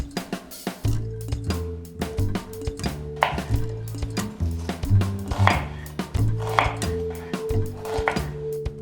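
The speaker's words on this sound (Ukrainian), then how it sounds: "Поріжте для початку дві цибулини на невеликі кубики." Quick, regular knife taps on a cutting board, dicing two onions into small cubes at a brisk steady rhythm over soft background music, close by.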